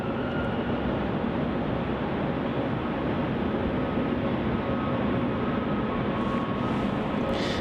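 Steady, loud roar of an aircraft engine at Melbourne Airport as a plane taxis toward runway 34, a continuous broadband rumble with a faint tonal whine throughout.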